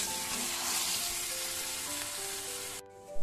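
A cooking dish sizzles steadily in the pan after a little water goes in, a dense close hiss with faint tonal hum throughout that drops away abruptly near the end.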